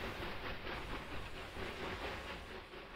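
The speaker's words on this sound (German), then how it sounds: "während der Zug hier vor sich hin juckelt" Train from Railway Empire 2 rolling steadily along its rails, a continuous moderate rumble with a faint hiss and clatter, no pauses and no voices.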